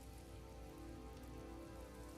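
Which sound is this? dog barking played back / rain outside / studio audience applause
rain outside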